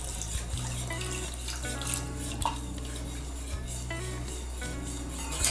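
Milk trickles in a thin stream into béchamel sauce for lasagne bolognese while it is stirred, a steady close liquid pour with soft utensil scrapes and small clinks in a kitchen, no talking.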